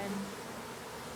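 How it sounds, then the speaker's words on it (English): A deer fly buzzes close by outdoors, a steady droning hum lasting about a second, loudest at the start and holding fairly even throughout. "It's a deer fly."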